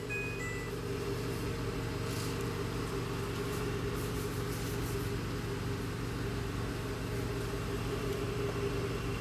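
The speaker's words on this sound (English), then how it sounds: "I select only the direct spin and I will start the machine." A Panasonic washing machine switched to spin runs a steady mechanical hum with a constant low drone and a faint high whine, with no clear rise in motor speed across the stretch and no voices.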